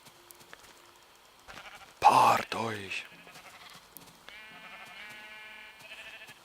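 Sheep bleating in Minecraft, one loud close bleat in the middle amid game sounds and a chime, with someone speaking briefly over it.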